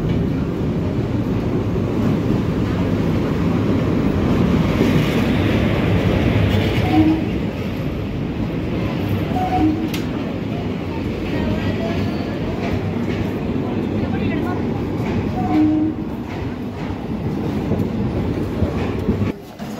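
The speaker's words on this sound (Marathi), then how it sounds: "तर मित्रांनो, 1 तास उशिराने 6:30 आपली ट्रेन आलेली आहे प्लॅटफॉर्म नंबर 1 वर।" A train pulls into platform 1 at Nanded railway station, running an hour late: a loud, continuous rolling rumble with rhythmic clickety-clack of wheels over rail joints, close and sustained.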